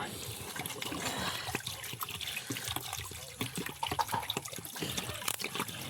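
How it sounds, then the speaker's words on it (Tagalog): A gallon of water is poured into a cooking pot for boiling a pig's head, with an irregular trickle and splash that continues at low volume with faint background noise. "isang galong tubig ha."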